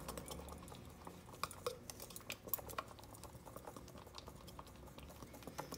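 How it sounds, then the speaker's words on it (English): A whisk stirs hair color in a mixing bowl, giving a quiet, continuous run of soft clicking and tapping strokes with small irregular peaks throughout. "And then I always use a whisk."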